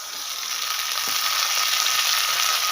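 Garlic, ginger and green chilli paste frying for a chicken handi, a loud, steady sizzle close up with a faint stir partway through.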